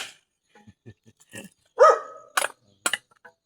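A small dog barks a few times close by in a quiet room, sharp isolated yaps and short whimpery sounds spaced across the moment.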